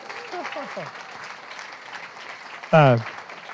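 An audience at a memorial poetry reading for poet Kim Blaeser gives a steady round of applause, with a brief loud voice, like a cheer or whoop, rising over the clapping near the end.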